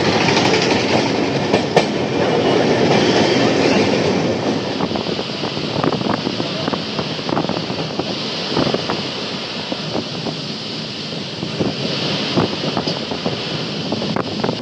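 Aboard the Amrit Bharat Express as it speeds over the Farakka bridge: continuous train rumble with rhythmic clickety-clack of wheels on the rails, close and steady, mixed with gusty wind buffeting the microphone.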